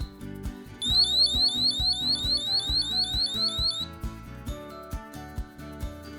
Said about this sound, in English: setting the built-in alarm